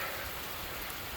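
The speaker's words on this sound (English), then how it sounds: "you can hear the rain coming down" Steady, dense rainfall during a thunderstorm hisses evenly and continuously, a broad wash of drops with no thunder or voices audible.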